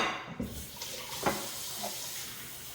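A kitchen tap runs steadily for a rinse while preparing eggs, a continuous broadband splash with a few brief knocks and clatters mixed in.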